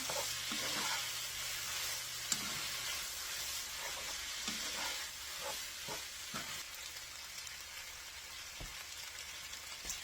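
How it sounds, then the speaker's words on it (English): Noodles for Thai drunken noodles sizzle in a hot pan while being stirred, with a continuous hiss broken by soft scraping and clacking from the stirring. "Now I'm going to dump my noodles in here. Move these around, get them all coated."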